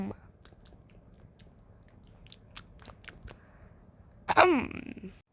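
Crunchy biting and chewing sounds from a character eating in the Sakura School Simulator game, with a few soft crunches early on and a louder burst of munching near the end, set against a quiet background hum.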